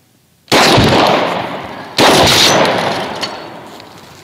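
A DP-12 shotgun loaded with incendiary slugs, dragon's breath and buckshot fires two loud, sharp blasts about a second and a half apart, each followed by a long decaying rumble outdoors, with no voices.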